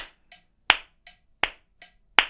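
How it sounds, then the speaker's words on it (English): Single hand claps land on beats 2 and 4 against a metronome click, sharp loud claps alternating with softer ticks in a steady, even groove, with no talking. "you can start just clapping on 2 and 4"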